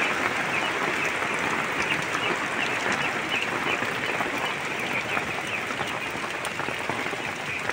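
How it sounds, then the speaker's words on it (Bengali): Heavy rain lashes down during a storm outdoors among garden plants, a dense, continuous roar of drops that stays loud and unbroken throughout, with no voices. "প্রচুর পরিমাণে বৃষ্টি শুরু হয়েছে, সঙ্গে ঝড়"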